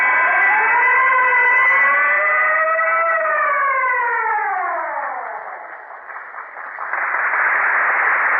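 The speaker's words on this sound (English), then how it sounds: "whenever you hear the siren and bell, think of Texaco" A siren for the Texaco Fire Chief radio program, 1933 broadcast, wails as a long tone sliding slowly downward and fading out, then a brighter ringing clang swells in at the end.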